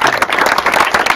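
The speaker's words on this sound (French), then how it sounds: "on va les applaudir" A crowd applauds two honoured farmers at a rural award ceremony in Brittany, loud dense clapping close by, continuous throughout with no voices.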